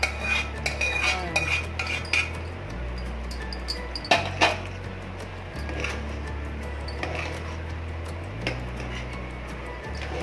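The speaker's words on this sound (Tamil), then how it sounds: "இப்போ நம்ம ஏற்கனவே தாளிச்சு வச்சிருக்க முந்திரியை இதில் போடுறோம்" Fried cashews are stirred into a pot of millet sweet pongal, with repeated metal spoon clinks and scrapes against the vessel at an irregular pace, close and fairly clear over a low background hum.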